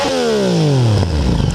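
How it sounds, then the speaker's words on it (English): A Yamaha FZ-09 (MT-09) motorcycle exhaust fitted with a silencer and decibel killer revs up hard, then its pitch sweeps down as it drops back toward a loud, burbling idle, close and alone. "that was basically the exhaust with the silencer on it"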